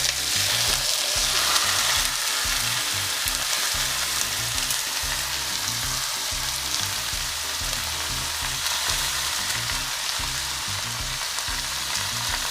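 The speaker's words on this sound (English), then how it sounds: "Now we are going to sear the meat." Beef sears in a hot pot with a loud, dense, unbroken sizzle and crackle that holds steady and close throughout, with occasional stirring movement.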